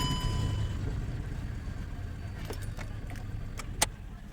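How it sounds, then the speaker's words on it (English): A car is started with its keys: a steady low engine rumble runs throughout, with a few light metallic key jingles and clicks close by, no voices. "When you start your car"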